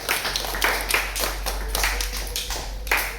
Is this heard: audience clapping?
yes